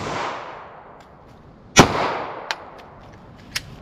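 A single sharp 9mm gunshot, a PDX1 Defender round fired into wood during a penetration test, cracks out close and loud, followed by two faint, brief pops.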